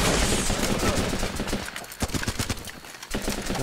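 Rapid gunfire from a firefight in the video game Running with Rifles, dense overlapping shots that crackle continuously and then break into separate sharp reports, close and loud with a faint voice underneath.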